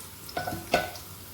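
Onions frying in oil in a pan while being stirred for chicken haleem, with two short bursts of scraping and sizzling over a quiet background.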